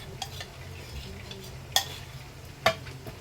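Crispy feet fry in hot oil as part of a double fry. A faint, steady sizzle sits under two sharp metallic clinks from a utensil, with no talking.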